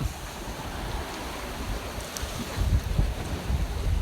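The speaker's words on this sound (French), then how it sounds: "Voilà un petit grand largue à force 5. On navigue aux alentours de 6 nœuds." A sailboat runs on a broad reach in force 5 wind at about six knots, with steady, strong wind noise and rushing water along the hull, swelling slightly toward the end.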